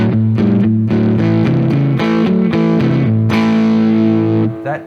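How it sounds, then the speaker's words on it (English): Gibson 335 electric guitar played on the bridge pickup through an overdriven Fender Deluxe Reverb amp, loud distorted chords and riffs ringing steadily for several seconds before cutting off at the end. "That is amp overdrive."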